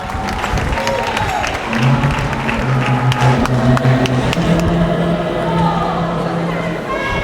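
A crowd applauds at a political alliance launch in Ghana after a signatory signs, the steady clapping lasting throughout and mixed with murmuring voices and a tonal sound underneath.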